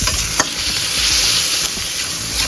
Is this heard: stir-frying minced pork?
yes